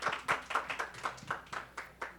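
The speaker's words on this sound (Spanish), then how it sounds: "Un aplauso, por favor, para la doctora." A few sparse hand claps at a steady rhythm, close and fairly quiet, from a small group rather than a full audience.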